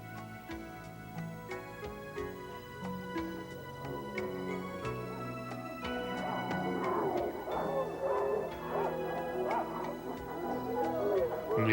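Northern Minnesota sled dogs yip, whimper and bark in an eager, overlapping chorus that grows busier and louder toward the end, mixed with sustained musical tones.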